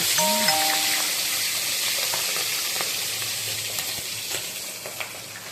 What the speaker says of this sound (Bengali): দেখো, আর মাছের মাথাটা ভাজছি।